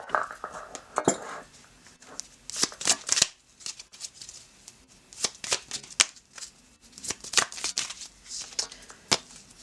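Tarot cards are shuffled up close in repeated riffling bursts with brief pauses between, a crisp papery flutter with a light clatter as the deck is squared.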